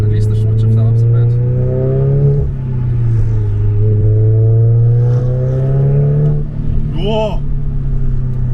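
Audi S3 with a manual gearbox accelerates hard through its gears from inside the cabin, a loud steady engine drone rising in pitch, dipping at a shift near two and a half seconds and climbing again.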